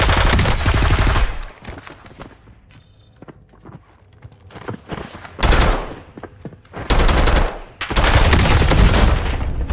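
Heavy automatic gunfire in the battle royale shooter Warzone: loud sustained bursts open the clip, then sparse shots and thuds in a quieter stretch, followed by two more long, loud bursts near the end.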